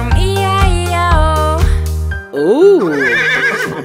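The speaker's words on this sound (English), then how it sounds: "And on the farm he had a horse, E-I-E-I-O. With a nay-nay here and nay-nay there." Horse neighing in a farm nursery song, sung voices and instrumental accompaniment giving way to a rising and falling whinny, with melodic singing continuing after.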